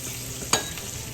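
Chopped onion drops into hot oil already used for Salisbury steak, giving a steady close frying hiss in the pan with one sharp clatter midway, and no voices.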